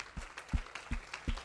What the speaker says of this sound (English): Can we give the Lord a hand clap of worship tonight?